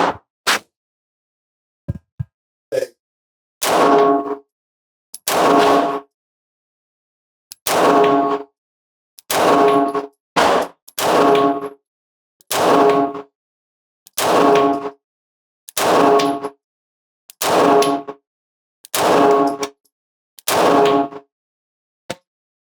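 CZ P-09 C Nocturne pistol firing Blazer aluminum ammunition at a range: about a dozen sharp, loud gunshots spaced a second or two apart, with quiet handling clicks between them and no talk.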